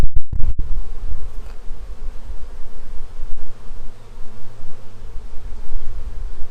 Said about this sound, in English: Watch out, bee.